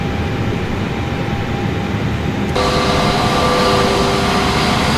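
Steady low jet engine roar in a flight simulator's Airbus A320neo that suddenly rises and brightens halfway through, with sustained tonal whines appearing as the engines spool up.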